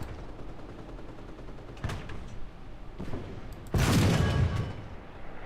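A Churchill Mk I tank cannon fires in War Thunder: a couple of faint thumps, then one loud, sharp boom with a rumbling tail near the end.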